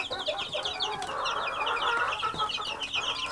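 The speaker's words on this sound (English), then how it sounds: "aren't these baby chicks getting big?" Baby chicks in a brooder under a heat light cheep constantly in a dense, high-pitched chorus of overlapping peeps, close and steady throughout.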